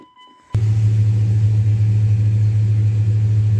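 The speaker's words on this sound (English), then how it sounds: "So we're going to crank it up now and just let it sit here and idle and see if it warms up" A 2001 Dodge RAM 1500 engine starts abruptly after a brief quiet moment, then settles into a loud, steady, deep idle rumble that holds to the end.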